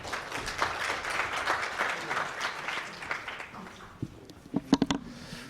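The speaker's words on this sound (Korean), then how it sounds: "박수로 여러분 맞아주시기 바랍니다" Conference audience clapping to welcome a speaker at a software industry outlook event, a moderate even patter that fades after a few seconds, followed by a few sharp thuds and a microphone being handled.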